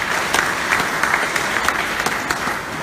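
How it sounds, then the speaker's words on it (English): A crowd at a lighting event in Gambia claps in a quick, dense round of applause, loud and close, with individual sharp claps popping out of the steady patter. "So I want all of you to give a round of applause to Ali."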